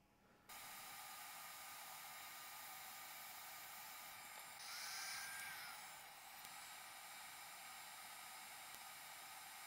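Hot air rework station blowing heated air onto a glued Tristar chip on an iPad 5 logic board: a steady close hiss that begins abruptly and holds, swelling briefly louder midway as the heat is raised.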